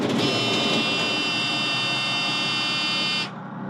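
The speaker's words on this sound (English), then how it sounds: "normally that loud buzzer there goes off until my air tank is completely full for the brakes" A 1993 E-ONE fire truck's low air pressure buzzer for the brake air tank sounds as a loud, steady electronic drone, then cuts off abruptly near the end, leaving the idling engine's low hum.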